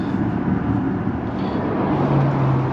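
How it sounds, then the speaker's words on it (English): Steady low road roar fills a quiet Mercedes-Benz EQA 300 electric car cabin, a continuous rumbling hiss of tyres on a coarse surface with no engine sound. "it's quite a rough road surface, so we're getting quite a lot of tyre noise in this car"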